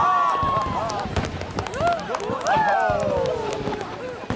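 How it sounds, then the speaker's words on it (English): Fireworks go off at an outdoor evening celebration in the video game Red Dead Redemption 2. Whistling rockets rise and fall, with pops and crackles over a steady crowd murmur. Nearby voices and music-like tones continue throughout. "Has he never seen fireworks before?"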